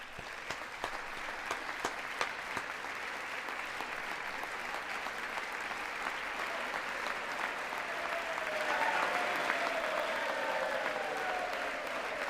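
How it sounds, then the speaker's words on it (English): Applause from the audience in Congress, a broad sustained roar of clapping from a large chamber with a few loud individual claps early on, swelling slightly and holding steady throughout. "somebody over there is clapping"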